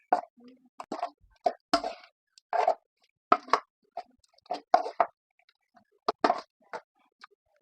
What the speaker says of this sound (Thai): ใส่น้ำปลาแดกก่อน